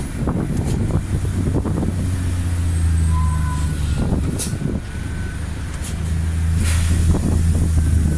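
A 48-ton trailer truck brakes while descending a steep mountain road. A steady low engine drone rolls on under heavy wind buffeting, with a few faint beeps.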